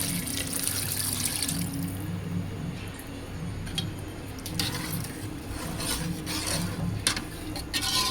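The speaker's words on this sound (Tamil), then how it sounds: "தண்ணி ஊற்றிப்போம்." Water pours steadily into a pot of paneer biryani, a continuous splashing rush close by with slight changes in tone as it fills.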